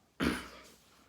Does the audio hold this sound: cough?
yes